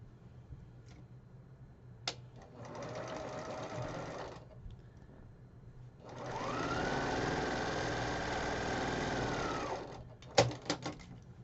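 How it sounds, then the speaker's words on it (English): A domestic sewing machine stitching quilt block pieces together, two steady whirring runs of needle stitching, the second longer and faster, separated by pauses with small clicks and handling noises close by. "So I'm going to go ahead and sew those 2 together, sew these 2 together, and the other pair together"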